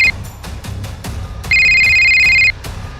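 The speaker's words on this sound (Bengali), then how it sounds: "কি গো, তোমার ফোনটা বাজছে, শুনতে পাচ্ছ না?" A mobile phone ringtone in an audio drama: a short electronic tone at the very start, then a loud, steady ring lasting about a second before it stops, with no voices.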